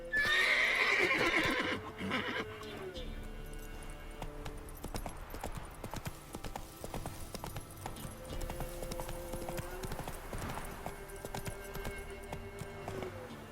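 A horse in the video game The Witcher 3 whinnies loudly at the start, then trots on with steady, close clip-clop hoofbeats over quieter game ambience.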